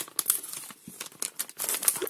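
A small plastic toy packet is crinkled and torn open by hand, with sharp bursts of crackling and ripping in uneven rhythm, close and fairly loud, no talking.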